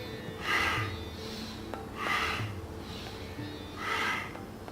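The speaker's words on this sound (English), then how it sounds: "Inhale, exhale." Fast nasal breathing during a beginner yoga warm-up, three forceful inhale-exhale bursts at a steady rhythm, close and moderately loud against a quiet background.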